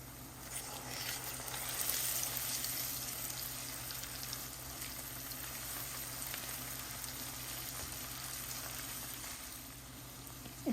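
Egg frying in a pan together with noodles in a home kitchen, a steady, dense sizzle lasting throughout at moderate loudness, with no talking.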